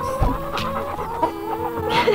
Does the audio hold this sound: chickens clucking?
yes